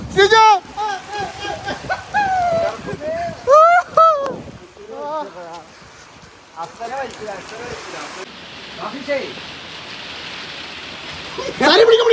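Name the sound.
heavy rain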